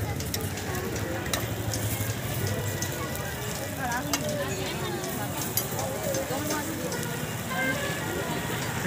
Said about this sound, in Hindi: देखिए टिक्कियाँ फटाफट लगा रहे हैं